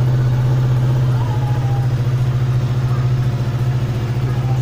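Yamaha R25 motorcycle engine, simply modified, idling steadily up close with a loud, even low hum and a slight wobble, running alone throughout.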